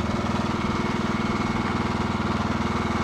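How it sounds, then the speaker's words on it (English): An old lawnmower engine runs steadily nearby, its rapid rhythmic chugging loud and continuous on its own with no talk over it. "This old thing, his dad was given this old lawnmower"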